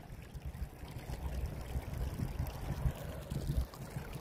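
Flash flood water rushes continuously through a 250-foot yard drain behind a farmhouse office, a steady turbulent wash and gurgle heard up close with gusting wind noise and no voices.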